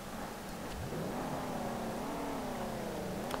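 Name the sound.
car engine revving in video game SLRR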